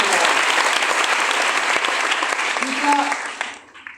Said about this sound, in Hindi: मैं चाहूंगा स्पेशल तालियां होनी चाहिए साउथ सर के लिए